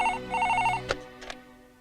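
A telephone rings in a short electronic trill, two quick bursts followed by a couple of clicks, close and clear with no talk over it.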